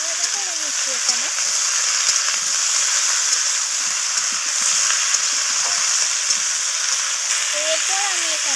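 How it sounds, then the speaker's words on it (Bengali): Eggplant, pumpkin and potato sizzle steadily in hot oil while being stirred, a continuous close frying hiss with faint scraping, and soft talk now and then. "তো সমস্ত কিছু আবারও নাড়াচাড়া করে আমি ভাজা ভাজা করে নিচ্ছি এখানে।"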